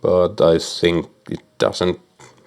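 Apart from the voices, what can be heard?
No distinct noise like a dog, phone or traffic.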